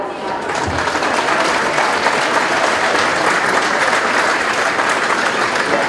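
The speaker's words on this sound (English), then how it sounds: "Round of applause for Pat." A crowd at a Gaelic football team gathering after a junior final gives a sustained round of applause, dense hand clapping filling the room for several seconds without pause.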